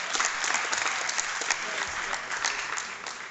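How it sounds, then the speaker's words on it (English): A conference audience at a European economic forum gives a burst of dense, continuous applause that holds loud and steady from start to finish, then eases slightly at the end, with no voices. "Big applause."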